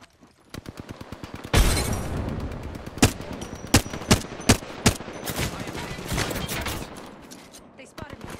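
A video game firefight. Rapid automatic bursts build into a loud volley, then heavy single shots crack out in a quick series of five or six before fading back into scattered fire.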